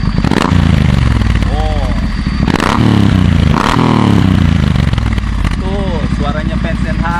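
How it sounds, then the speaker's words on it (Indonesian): Triumph Bonneville T120 Black Edition motorcycle fitted with a Vance & Hines exhaust, revving close and loud in several sharp bursts, with someone talking over the engine. "tuh suaranya Vance & Hines."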